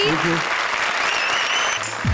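An audience at a Comedy Circus show bursts into sustained applause, thick and steady clapping close by, with a brief musical tone and a voice cutting in near the end.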